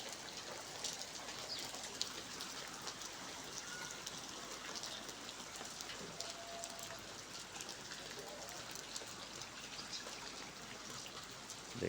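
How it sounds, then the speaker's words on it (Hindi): Steady rain falling over a village on a cool day, a dense even hiss of drops continuing throughout at moderate distance, with faint bird calls and a low murmur of voices now and then in the background. "हमारे गांव में बारिश हो रही है भाई"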